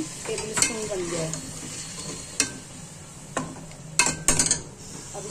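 Garlic and ginger sizzling steadily in a pan for beef curry, a continuous close frying hiss broken by several sharp clinks and scrapes of a spoon stirring against the pan.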